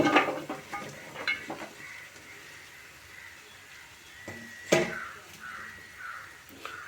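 Carrot pieces fry with ginger paste in a pan at an outdoor village cooking spot, with a quiet sizzle under repeated scraping stirs, a louder clatter of the utensil now and then, and faint bird calls behind.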